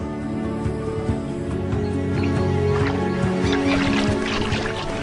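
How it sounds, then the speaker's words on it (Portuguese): Birds call in the Amazon forest after the floods recede, a dense chorus of honking, quacking calls that sounds like waterfowl, steady and loud, layered over constant ambient noise with no speech. "Aves retornam aos galhos que abrigaram peixes."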